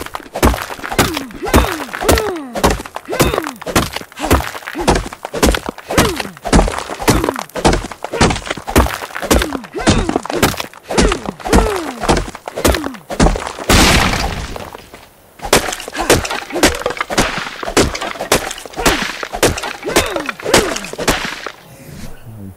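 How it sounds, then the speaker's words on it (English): Rapid, steady thunks of stone being gathered in Ark Survival Evolved, dozens of sharp cracking hits in quick rhythm with a brief pause partway through. "Now we should be able to gather stone nice and quickly."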